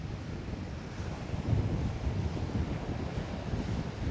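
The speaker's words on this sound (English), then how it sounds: "How windy it is" Strong wind at Coney Island, New York, buffets the microphone in a continuous low roar, with gusts rising and falling and no voices.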